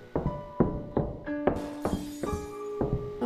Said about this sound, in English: Oh, I'm hearing glass.